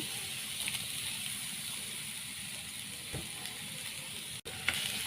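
Sliced ripe nendran plantain sizzles steadily in a pan with a little ghee, a continuous close hiss with a few soft clicks and a brief dropout near the end.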